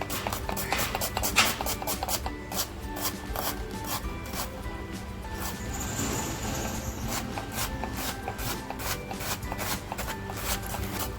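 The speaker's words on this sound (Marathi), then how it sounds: "अर्धा कांदा मी बारीक कापून घेणार आहे" A kitchen knife finely chops an onion on a board for egg rice. The crisp, rapid taps come in a close, steady rhythm with brief pauses and a soft rubbing scrape between the bursts.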